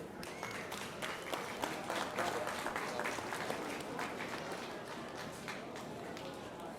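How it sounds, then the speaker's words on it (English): A crowd at a swine show applauds the champion steadily, a dense patter of clapping hands continuing without pause, with some voices mixed in. "if we can have another round of applause here"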